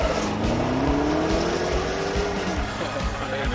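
A sports car at an American Le Mans Series race at Lime Rock Park in 2011 drives past with a steady engine roar that rises in pitch and then drops away, under a busy, noisy trackside background.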